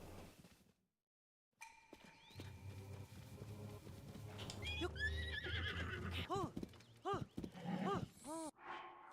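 A horse in Zelda: Tears of the Kingdom whinnies several times in rising-and-falling calls, with hooves clopping underneath and a person talking over it.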